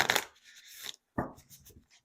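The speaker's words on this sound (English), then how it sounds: "One more shuffle for you," Oracle cards are shuffled in two quick riffling bursts separated by a brief pause, close and crisp, with soft rustling afterward.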